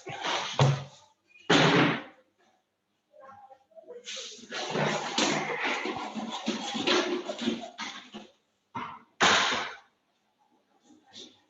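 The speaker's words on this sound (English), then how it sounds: "I'll just shut the door." A door is shut indoors in a lecture setting, a few sharp thumps and slams among bursts of handling noise, with a voice talking in the middle of the clip.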